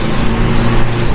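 Modified Toyota Innova accelerating hard, its engine note a steady, loud, close drone held throughout the brief moment with no pause.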